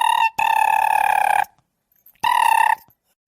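Telephone ringback tone on an outgoing call, two loud electronic rings separated by a long silent gap, close and clean with no voices.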